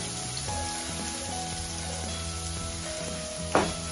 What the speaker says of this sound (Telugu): తర్వాత ఆనియన్ ముక్కలు, పచ్చిమిర్చి ముక్కలు వేసుకోవాలి.